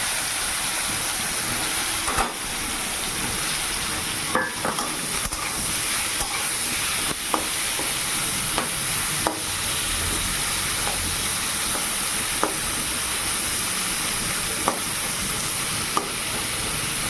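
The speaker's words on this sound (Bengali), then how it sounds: "আর কাঁকরোল ভাজা চাপালাম, ওইদিকে হচ্ছে উনানে" Spiny gourd (kakrol) frying on a clay stove, a steady hissing sizzle running throughout with occasional sharp clicks and knocks.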